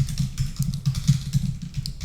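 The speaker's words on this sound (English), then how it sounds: "let me type it in." Close, quick typing on a computer keyboard, a rapid irregular run of soft clicky keystrokes over about two seconds, with no talk.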